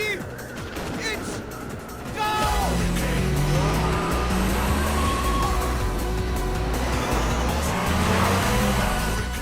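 Race cars in the Initial D arcade racing game rev hard and launch off the start line, engines surging loud and climbing in pitch after a brief idle, with a spoken voice over the opening moments.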